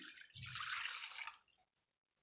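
Two glasses of warmed milk poured into a kneading bowl, a close, liquid splashing pour lasting about a second before trailing off into a few faint drips and quiet.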